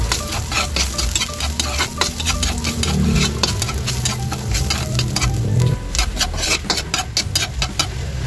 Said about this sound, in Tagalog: Tayo naman guys ay magigisa na.